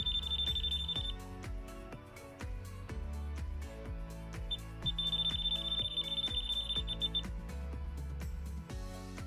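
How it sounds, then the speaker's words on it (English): A Fnirsi DMC-100 digital clamp meter held near a live wire in non-contact voltage mode gives off sharp electronic beeps, a long steady tone that stops and restarts, over a dense rhythmic background of other sound. "The meter beeps and lights up to indicate voltage."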